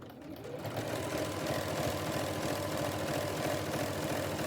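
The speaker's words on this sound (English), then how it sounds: "this also puts this in the right position for me to sew all the way down the deeper hem to the other end" Sewing machine running steadily along an apron hem, a close, fast, even mechanical whir and patter that starts up and holds without pause, no talk.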